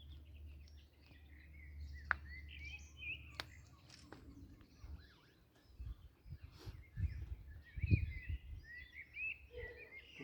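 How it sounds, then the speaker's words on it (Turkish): Birds singing outdoors on a hilltop on Büyükada, faint scattered chirps and trills at a distance, with low wind, rustling and footsteps underneath. "Evet o kuş çok güzel ötüyor ya."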